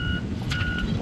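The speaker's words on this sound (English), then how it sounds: "here we have some heavy machinery working on the cement barriers" Heavy construction machinery working on cement barriers beside traffic on a causeway, a steady reversing beep over a dense low engine rumble.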